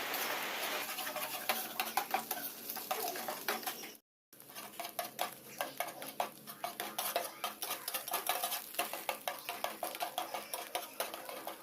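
A utensil scrapes and clinks rhythmically against a pan while scrambled egg bhujia is stirred and fried for egg chowmein, close repeated strokes broken by one brief pause.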